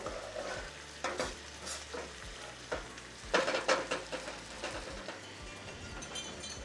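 Food being stirred in a pan on a home stove during a BBQ cookout, utensil scrapes and clatters coming in irregular bursts over a low sizzle, close and moderately loud with no talking.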